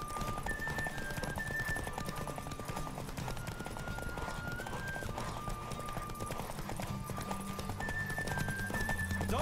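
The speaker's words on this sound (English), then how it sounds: "Don't spare the horse!" A horse gallops in The Witcher 3, with rapid rhythmic hoofbeats pounding steadily under game music with sustained melodic tones, and occasional whinnies, continuous and fairly close throughout.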